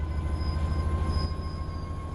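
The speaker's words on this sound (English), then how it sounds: "Let's get the train moving and see it all working." A train in Train Sim World 3 begins moving with a low rumbling engine drone, a thin high whine and steady mechanical hum, heard alone and fairly close.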